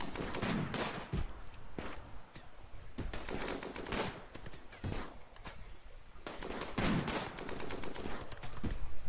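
Repeated bursts of gunfire from a firefight in the colony-building video game RimWorld, sharp volleys recurring at irregular intervals across the whole stretch, fairly loud with no talk over them.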